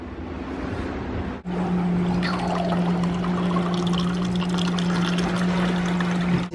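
Fresh local coconut water poured in Panama, a steady close liquid stream beginning after a short pause and running on evenly with a ringing tone as the container fills.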